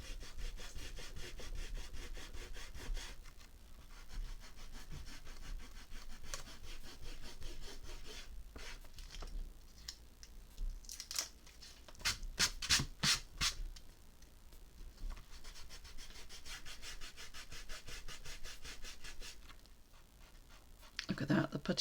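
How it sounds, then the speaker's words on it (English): An eraser rubs out a pencil grid on a canvas board, producing a long run of soft, close scrubbing strokes in quick back-and-forth rhythm with a few sharper rubbing bursts. "use the eraser to get rid of most of the grid so we can actually see the drawing a bit better"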